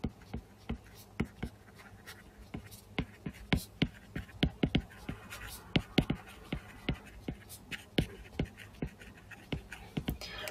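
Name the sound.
writing on a board while explaining transformer advantages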